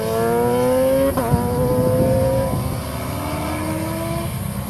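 A motorcycle on a race track accelerates with rising engine tones, its pitch climbing through gear changes, loud and fairly close with a brief mechanical clatter midway.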